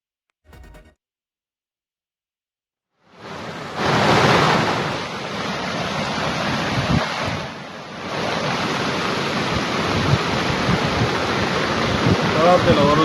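Swollen streams rush with floodwater after heavy rain in Adilabad, Telangana, where a bus sits stranded. A short thump comes first, then after a pause a loud, steady roaring wash of water that keeps on, with a brief dip midway.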